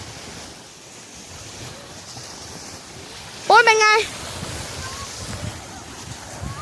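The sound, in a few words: sea waves on the shore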